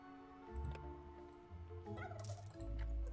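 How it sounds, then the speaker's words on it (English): Turkeys gobbling in the dungeon-management video game Dungeons 3, a few bursts rising over a layered game soundtrack and ambient hum, fairly close and moderately loud. "Turkeys."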